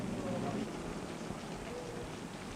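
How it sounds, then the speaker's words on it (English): Steady rain falls in Florence in November, a continuous soft hiss with no distinct drops and no voices. "it started to rain"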